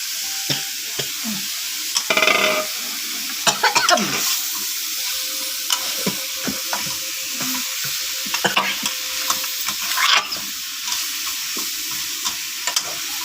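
Chili and wild boar pork are stir-fried in a pan, giving a steady loud sizzle broken by repeated scraping and clanking strokes of a spatula, close and without talk.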